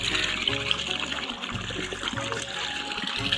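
A borewell pump at a village home construction site discharges sandy water in a steady, continuous gush, with a low motor hum running beneath it throughout.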